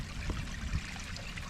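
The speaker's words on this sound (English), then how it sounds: "Look at this waterfall." A waterfall in the woods of Lincoln Woods near a cave gives a steady, rushing wash of falling water, close and continuous with no break, with no one talking.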